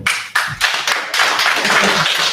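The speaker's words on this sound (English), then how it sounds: "that should get a clap" A group at a gig worker town hall claps close by, starting with a few distinct loud claps and quickly building into a thick, continuous burst of clapping.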